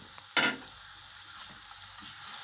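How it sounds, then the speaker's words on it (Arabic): Cuttlefish, crab and shrimp sautéing together in a pan for seafood soup, with a soft steady sizzle and one sharp scrape of stirring early on, close and alone. "السبيت مع الكابوريا والجمبري كله كده مع بعضه هنشوحوه كويس"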